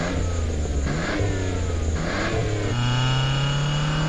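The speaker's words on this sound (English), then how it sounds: "The Budweiser Ken Schrader stock car." Budweiser Ken Schrader stock car engine revving loudly and close, with repeated surges of throttle that settle into a rising, sustained high-revving drone.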